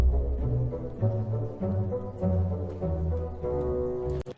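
Sustained orchestral chords from In the Hall of the Mountain King move through a closing cadence, swelling and settling in several steps before cutting off abruptly.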